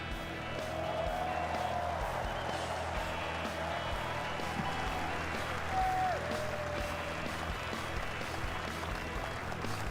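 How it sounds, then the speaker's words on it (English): At Suzuka during the Japanese Grand Prix, a large crowd applauds the pole position winner, distant and sustained under a steady wash of background noise. "He's getting used to hearing the applause for taking pole position in China, now in Japan."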